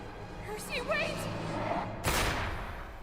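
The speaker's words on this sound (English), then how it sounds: "I heard the gunshot." A single sharp gunshot from the animated fantasy series Vox Machina cracks out loudly midway, following voiced dialogue and effects from the show.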